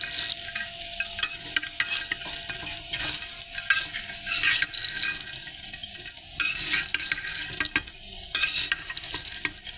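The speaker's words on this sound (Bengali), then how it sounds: "এখন হালকা করে ভাজা করে নেব, আর চুলার আঁচটা একদম স্লো রাখবো।" Vermicelli fries in oil over a low flame while a spoon stirs it, giving a bright crackling sizzle broken by frequent metal scrapes and clinks against the pan, close up and without talk.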